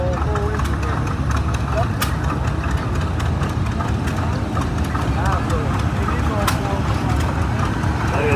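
A 1931 GP wide tread tractor rolls past at a Rough and Tumble Engineers show parade, its engine running in a steady, loud, low rumble. A voice talks over the engine throughout.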